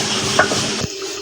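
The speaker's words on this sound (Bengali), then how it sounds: "কাতল মাছের মাথাটা আগে দিয়ে দিচ্ছি" Catla fish head dropped into a pot of cooking mung dal, a steady sizzle and bubbling with a brief splash and a soft thud as it lands, no voices.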